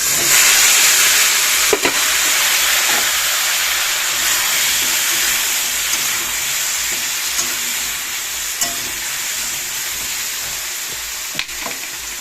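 Food fries in mustard oil in a home kitchen, a continuous close sizzle and hiss with occasional stirring knocks against the pan and no talking.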